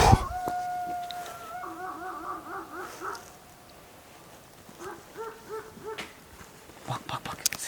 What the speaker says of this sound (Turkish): Köpek sesi şey oluyor bak.